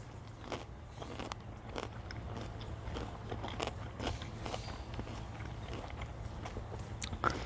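Crisp bites and crunchy chewing of a fresh garden-grown cucumber, repeated close crunches over a steady low outdoor hum, with no talking.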